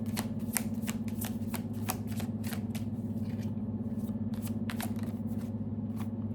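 Tarot cards shuffled by hand in a quiet room, a run of crisp riffling bursts and soft slaps repeating steadily over a constant low hum, close and fairly faint.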